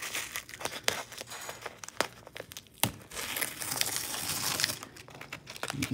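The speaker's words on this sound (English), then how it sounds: "Peeling back the tape." Masking tape being peeled off freshly painted baseboard trim, a series of close crinkling, tearing rips with sharp snaps, heard alone without talk.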